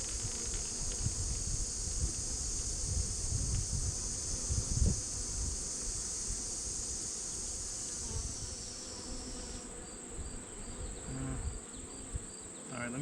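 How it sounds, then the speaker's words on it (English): A steady, dense buzz of honey bees inside a beehive drones continuously at close range, with faint handling thumps and rustles beneath it. "There's not a lot of bees in here"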